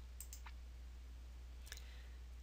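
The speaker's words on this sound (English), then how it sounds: "So we'll go ahead and click Next." A few quiet mouse clicks, close and faint, over a steady low electrical hum with no voices.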